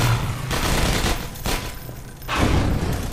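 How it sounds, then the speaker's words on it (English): Automated turrets firing in the video game Half-Life 2 Episode 1, producing loud, sustained bursts of rapid gunfire that break off briefly before resuming, with no talk over it. "These are the turrets. They're trying to shoot us."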